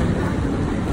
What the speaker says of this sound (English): There goes my train.